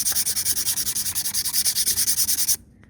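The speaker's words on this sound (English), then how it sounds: "So just grab some sandpaper. We got 120 grit here. Lightly sand it off." A brake pad from a Mercedes Sprinter former ambulance is hand-sanded with 120 grit sandpaper: quick, even back-and-forth scrubbing strokes, close and steady for about two and a half seconds, then stopping.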